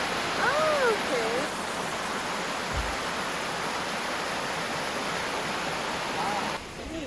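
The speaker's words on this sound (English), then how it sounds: "And there's the river." River flowing beneath the White Lady Bridge in Guam, heard from above as a steady, broad rushing wash that holds constant throughout, with a few faint chirps near the start and end.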